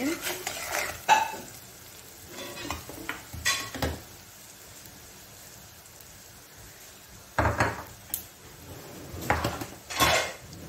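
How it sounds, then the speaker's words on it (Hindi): Spices are stirred and roasted in a pan for a baingan and potato salan, giving soft frying hiss under intermittent scraping and clinking of a spoon against metal in several short bursts, with quiet gaps between. "थोड़ा मसाले अच्छी तरह से भूनेंगे अपन"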